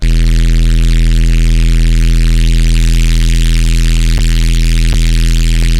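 A loud, dense synthesized DnB noise bass drone made in Vital, with a buzzing low hum under bright hissing noise, sustained and heavily compressed, with a few faint clicks.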